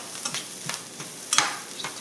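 Garlic sizzling in a hot pan while being stirred for a mushroom stuffing, with a steady crackle broken by several short scraping stir strokes and one louder clatter near the end.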